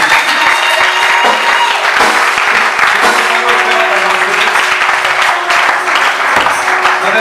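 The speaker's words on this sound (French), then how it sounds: "Est-ce qu'on peut acclamer très fort?" A church congregation applauding loudly after a prayer, dense sustained clapping filling the whole stretch without a break.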